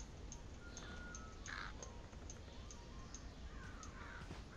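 A bird caws faintly a few times over a quiet, steady ambient hum in the stealth video game Thief.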